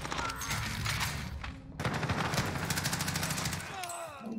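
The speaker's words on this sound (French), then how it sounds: "Je subis des tirs." Gunfire in the video game Warzone, sustained rapid bursts and crackling shots through most of the stretch, with a brief lull and game effects alongside.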